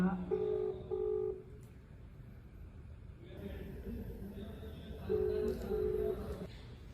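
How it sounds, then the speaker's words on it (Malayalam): An outgoing video call rings without being answered: a two-pulse electronic ring tone sounds once, pauses for a few seconds, then repeats, heard at moderate volume over a quiet room. "വെല്ലടിക്കുന്നുണ്ട്, എടുക്കുന്നില്ല"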